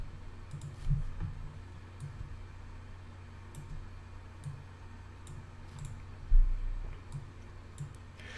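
Quiet keystrokes on a computer keyboard click in a sparse, uneven run, with a few louder thumps and a low hum under them.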